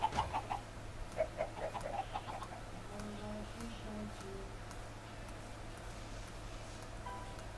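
Chickens in the Minecraft video game cluck in short repeated bursts near the start, several quick clucks spaced about half a second apart, then fade under a steady low hum and softer game noises.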